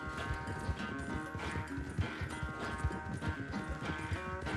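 Rapid hoofbeats of a galloping horse in Red Dead Redemption 2 clatter in a steady rhythm, with bursts of game-like effects layered over them.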